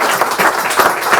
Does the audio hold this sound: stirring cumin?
no